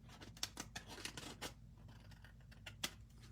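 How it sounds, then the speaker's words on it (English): Scissors make a run of quick, soft snips close by during a crafting job, then go quiet before one last cut. "Let's cut a little bit in here."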